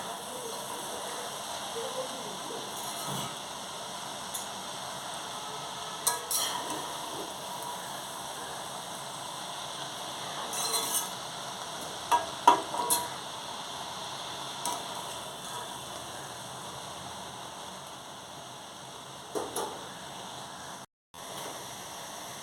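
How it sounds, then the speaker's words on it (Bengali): Water spinach stir-fried in a wok with garlic and dried chili gives a soft, steady sizzle, with occasional scrapes and clatters of stirring and a brief pause near the end. "নেড়ে দিতে হবে এমনভাবে নাড়তে হবে যেন শাকটা পড়ে না যায় কিন্তু রসুন আর শুকনো লঙ্কাটা ভালো করে শাকের সঙ্গে মিশে যায়"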